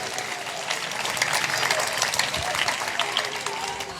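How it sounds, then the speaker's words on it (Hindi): An audience at an archbishop's gathering breaks into warm, sustained clapping for the sisters, a full steady patter of many hands that swells slightly in the middle, with some voices mixed underneath. "तो आए हम सिस्टर्स का भी जोरदार तालियां बजाकर शुक्रिया अदा करते हैं"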